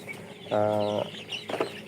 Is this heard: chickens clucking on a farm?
yes